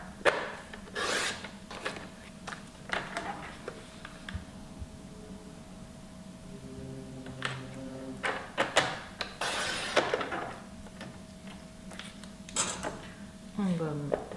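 Scissors or a blade cutting paper for a scrapbook album, giving irregular close rasping and rubbing strokes amid light handling noises, with no speech.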